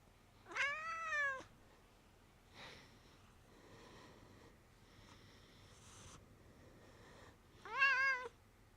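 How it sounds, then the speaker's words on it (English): A house cat meows twice, a drawn-out meow near the start and another near the end, both fairly quiet and close, with faint soft shuffling noises in the quiet gap between them. "Cat."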